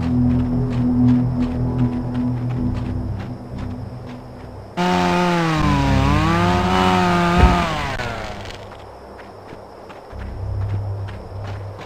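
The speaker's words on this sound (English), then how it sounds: "It's an electric chainsaw." Battery-powered electric chainsaw in the video game Obscure: The Aftermath, a loud whining buzz that starts abruptly partway through, rises and bends in pitch, then cuts off, over a steady game background of rhythmic footstep-like thuds.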